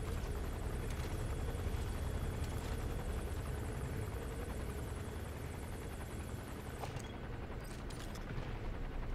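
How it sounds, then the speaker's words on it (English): A helicopter hovers low in Metal Gear Solid V in bad weather, its steady dense rotor roar filling the whole stretch loud and continuous, with a few brief sharp cracks near the end. "that helicopter is making me nervous"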